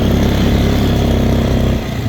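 A motorcycle engine revs loudly up close with a throbbing, rumbling exhaust, holding steady before easing off slightly toward the end.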